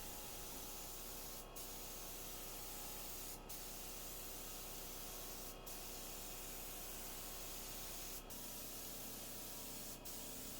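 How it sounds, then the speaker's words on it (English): Spray primer being applied to a vintage nightstand, a steady close hiss of spraying punctuated by a few brief sharp bursts, faint overall and alone without talk. "it felt good just to spray this primer on"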